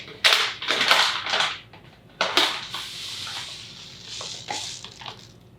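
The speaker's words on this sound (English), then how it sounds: "I'm also going to use a tablespoon of chia seeds in each." Chia seeds spooned into a plastic blender cup, giving several sharp rattling pours and clicks with quieter scraping in between, close and alone.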